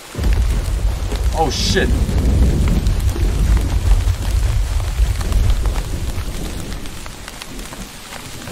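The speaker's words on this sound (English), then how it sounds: "Lightning!" Rain pours steadily with a loud thunder rumble during a storm in the Sanctuary Island video game, the downpour continuing throughout while a man briefly exclaims over it.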